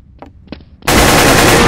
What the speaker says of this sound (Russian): а он меня из автомата стреляет